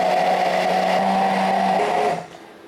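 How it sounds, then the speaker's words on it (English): A kitchen blender whirs loudly and steadily as it purees a creamy sauce for a carbonara-style pasta, then cuts off abruptly near the end. "Blender, and I will blend away until I get a lovely creamy sauce."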